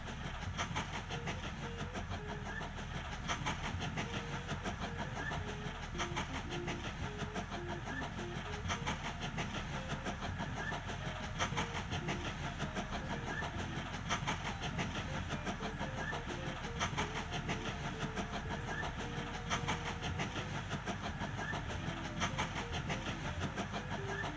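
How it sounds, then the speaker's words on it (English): A logging train rolls steadily along rails in the Mashinky video game, a continuous low rumble with rhythmic clickety-clack from the wheels, even and unbroken throughout. "So the logging train is crossing the flat crossing there"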